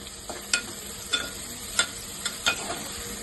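Onions frying in turmeric-tinted oil for a dried shrimp and gongura curry, a steady soft sizzle broken by a few sharp scraping stirs of a spoon against the pan.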